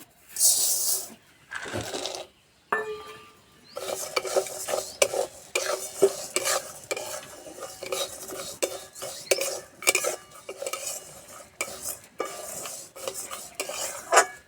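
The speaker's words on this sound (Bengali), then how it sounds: "আমি তেল কড়াইয়ে মুগ ডালা চিনা বাদাম ভেজে নেব" Moong dal and peanuts fry in oil in a wok, with a metal spatula repeatedly scraping and clinking against the pan in uneven bursts over a faint sizzle, close up and with no talking.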